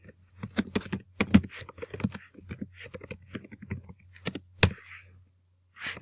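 Keys tapped on a computer keyboard in a quiet room, a run of sharp, irregular clicks in quick bursts with short pauses between them and a faint low hum underneath.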